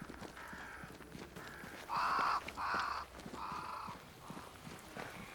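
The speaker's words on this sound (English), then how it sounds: "Crows. They flock to that great tree up there." Crows in Banishers: Ghosts of New Eden give a run of loud, harsh caws, four or five in a row with short gaps, standing out over faint footsteps and ambient background.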